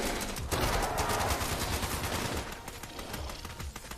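Gunfire rattles through Fallout 76 gameplay, a dense burst of loud close shots and rapid reports packed together over the whole stretch.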